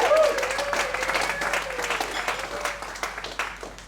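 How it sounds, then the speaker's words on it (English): An evening event audience in Bali applauds the speakers, dense clapping that starts loud and fades gradually over a few seconds, with a voice talking over it. "please give an applause for the speakers tonight"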